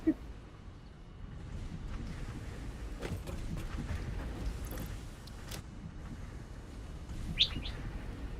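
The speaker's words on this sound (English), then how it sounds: "Bird moment." Small birds chirping and tweeting outdoors in short, scattered calls, with a louder close chirp near the end, over a low background rumble of distant traffic.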